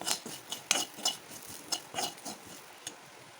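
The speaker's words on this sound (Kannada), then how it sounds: "ಬೆಳ್ಳುಳ್ಳಿಯನ್ನು ಜಜ್ಜಿಟ್ಕೊಂಡಿದ್ದೀನಿ ಅದನ್ನು ಹಾಕ್ತಾಯಿದ್ದೀನಿ ಹಾಗೆ ಫ್ರೈನ ಮಿಕ್ಸ್ ಮಾಡಿ ಇದ್ದೀನಿ" Crushed garlic and spice powder stirred in a pan for betel leaf rasam, a spoon scraping and clinking against metal in a series of short, close, irregular strokes with no voices.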